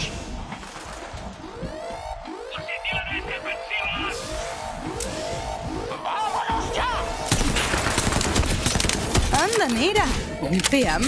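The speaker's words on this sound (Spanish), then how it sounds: "Pues ya hay aquí tiros." Gunfire in the video game Borderlands 3, rapid bursts of shots with whooshing effects, crashes and game sounds crowding together, while a voice speaks over the action.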